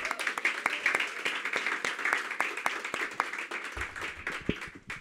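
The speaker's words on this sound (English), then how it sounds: "I think all of that deserves a round of applause." An audience at a Washington, D.C. grant awards event breaks into scattered applause, sharp individual claps from a modest crowd that hold irregularly throughout, with a brief low thump near the end.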